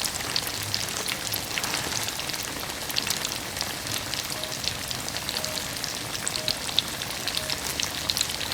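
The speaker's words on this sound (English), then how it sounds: "that's when you know that you are frying at the right temp" Food frying in hot oil for a saffron cream sauce and tortellini dish, a steady soft crackle and sizzle like calm rain, continuous and even with no voices.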